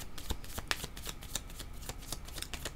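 Tarot cards shuffled by hand, a steady run of quick papery riffles and flicks filling the whole stretch, close and fairly quiet with no voices.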